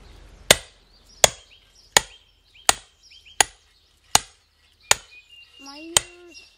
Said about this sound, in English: This piece of wood inside is very hard, so I can't split it with an axe. So I had this wedge. And then a big hammer.